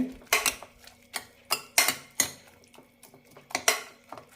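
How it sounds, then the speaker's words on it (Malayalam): Cooked dal being mashed in a pot for a cucumber and drumstick leaf curry: a utensil knocks against the pot in about ten uneven clinking strikes, close and with no talk. "പരിപ്പൊന്ന് ഉടച്ചു കൊടുക്കാം വല്ലാതെ ഉടക്കണ്ട"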